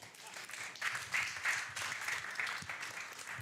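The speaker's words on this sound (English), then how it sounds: "Applause." Applause from an evening audience welcoming a speaker to the stage, a soft, distant patter of many hands that stays fairly even for a few seconds.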